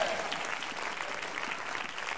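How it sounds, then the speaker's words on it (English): A church congregation claps together in a steady, dense burst of applause that fills the room, heard alone without speech. "Somebody clap your hands and say yes."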